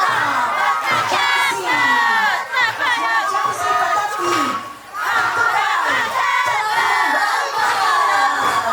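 A large festival crowd at a Pukllay celebration in Tambobamba cheers, shouts and whoops loudly and continuously, with applause mixed in, close and enveloping.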